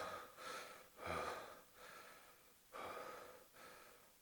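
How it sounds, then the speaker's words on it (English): Faint, close heavy breathing comes from a voice actor recreating a movie scene, with repeated rough inhales and exhales, a few gasps and snorts, in uneven rhythm and without words. "There's a lot of breathing in this."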